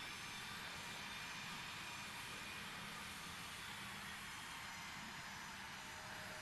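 A steady, even roar of airliner jet engines fills a flight simulator cockpit, broadband and constant without any break or change.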